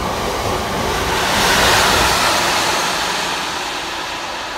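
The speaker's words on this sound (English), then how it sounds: "Here we've got a Colas Rail Freight from Workington to Aberdeen Waterloo." A Colas Rail freight train running from Workington to Aberdeen Waterloo rolls past as a broad, steady roar that swells near the middle and eases slightly, with no voices over it.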